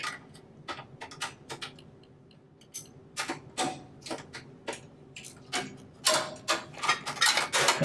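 Ratcheting wrench loosening two 3/8 inch nuts on the high limit of a PFE 500, heard as quick irregular clicks and ticks that grow louder and denser toward the end, close by with no talk.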